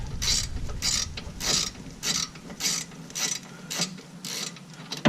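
A hand ratchet loosens a brake caliper bolt during a brake pad replacement, giving about nine rapid bursts of clicking pawl strokes in a steady back-and-forth rhythm, close and clear with no voices.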